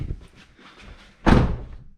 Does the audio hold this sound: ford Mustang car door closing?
yes